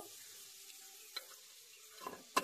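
Black cumin dropped into hot frying oil for an okra dish, giving a faint, steady sizzle with a few soft clicks near the end.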